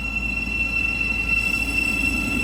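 A Great Northern Class 717 electric train, unit 717 003, pulls out of Hatfield station on the East Coast Main Line with a steady rumble and a constant high electrical whine and tone, loud and close.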